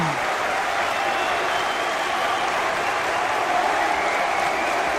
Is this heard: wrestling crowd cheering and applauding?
yes